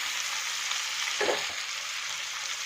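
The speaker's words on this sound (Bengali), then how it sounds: "এরকম মাছগুলোকে টমেটো, পেঁয়াজ, কাঁচা লঙ্কার সাথে ভালো করে একটু ভেজে নেব" Fish frying in a pan with tomato, onion and green chili for a Bengali fish curry, a steady soft sizzle throughout with a brief louder stir-like burst near the middle, no talking.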